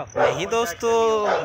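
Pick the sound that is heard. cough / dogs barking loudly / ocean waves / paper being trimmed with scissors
dogs barking loudly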